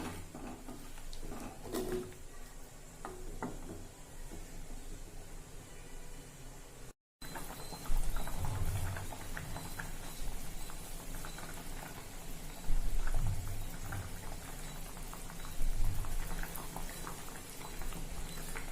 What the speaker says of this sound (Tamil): இப்போ இதெல்லாம் சேர்ந்து நல்லா கொதிக்கட்டும்